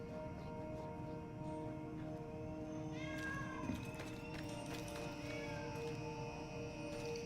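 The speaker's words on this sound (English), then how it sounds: "Oh, that's the cat that's meowing." A cat meows faintly in the background during a gaming livestream, a couple of short wavering cries over a steady electronic game soundtrack.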